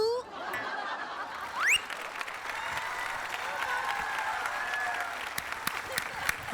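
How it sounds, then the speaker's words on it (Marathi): Applause and light laughter from a studio audience at a Marathi comedy sketch, a steady continuous patter held at moderate level for several seconds, with a brief voice near the start. "टाळ्या कसल्या वाजवतोयस भालचंद्रा?"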